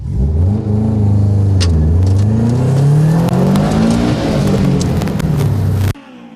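A racing car at the Ltava Attack Series race final in Poltava, Ukraine, roars loudly and close, its engine pitch climbing and falling through revs for about six seconds before cutting off abruptly.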